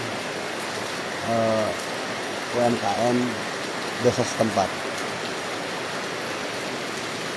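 Steady rain falls at Palutungan, Kuningan, at the foot of Mount Ciremai, a constant broadband hiss throughout with a voice speaking in short bursts over it.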